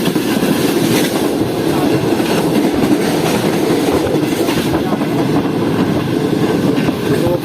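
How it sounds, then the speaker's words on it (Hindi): Karakoram Express passenger train running at speed between Karachi and Lahore, a loud continuous rumble and rattle of wheels on track heard from inside the carriage, steady throughout. "तो ये कुछ स्पीड है ट्रेन की जुम्मा कोट चलने के बाद।"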